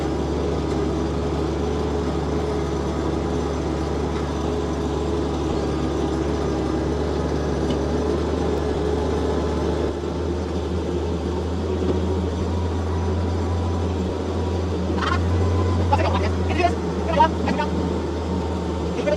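A 1942 Dodge ambulance drives laps while towing a 1953 Dodge truck, giving a steady, loud engine drone and road rumble throughout, with a few clanks and knocks near the end.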